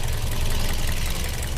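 A 2014 third-generation Toyota Vios idles steadily with a racing exhaust fitted, giving a close, loud, continuous low rumble with a faint knocking pulse and no talk.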